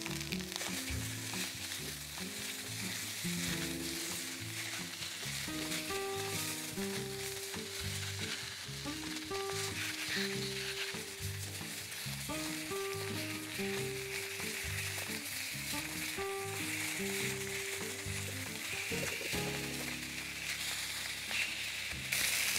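Johnsonville Italian sausages sizzle and spit in a frying pan, some pieces slightly burning at the edge, with a steady crackling fry and repeated scraping stirs throughout, close and loud.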